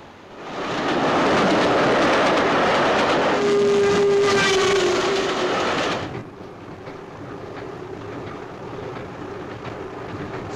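A train travelling on rails, a steady loud rumble with a brief whistle-like tone midway, easing to a quieter continuous roll after a cut, with no voices.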